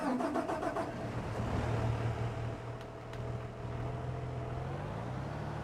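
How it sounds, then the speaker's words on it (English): Loud cleaner machine engine in a farming video game, a steady mid-pitched motor drone with a sharper rattling start, holding continuously and close throughout. "the sound volume on that cleaner is way loud"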